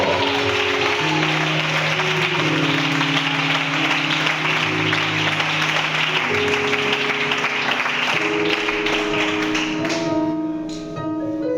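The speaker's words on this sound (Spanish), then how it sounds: "Ese aplauso para la cruz y para Cristo" A church congregation claps along while organ or keyboard chords sustain underneath, the dense clapping continuing for about ten seconds before thinning out near the end.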